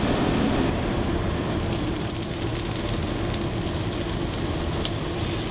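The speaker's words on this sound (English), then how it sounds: "This is a pretty classic way to prepare them. Sauteed in brown butter." Slices of veal brain sauteing in brown butter in a hot pan, a dense, steady sizzle and crackle of frying that runs throughout, close and fairly loud, with no voices.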